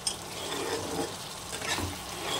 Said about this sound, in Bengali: মশলা থেকে যত সময় তেল না ছাড়ছে তত সময় কিন্তু আমরা মশলাটাকে কষাবো